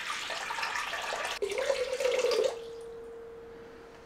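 Tap water running into a container to be weighed for rye mixed bread dough, a hissing stream that narrows to a thin steady trickle with a rising tone, then cuts off, close and fairly quiet.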